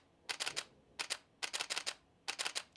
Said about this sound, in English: your camera may start to bog down and start to stutter when shooting in RAW